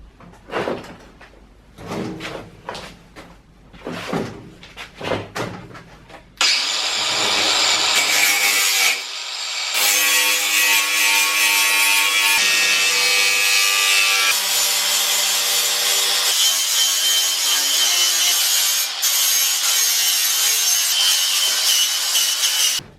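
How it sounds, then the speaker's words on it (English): A power sanding wheel grinds against rusty metal on a Morris J commercial vehicle body, first in several short bursts, then in a long, loud, steady whir close by. "I've hit this with a sanding wheel as best I could."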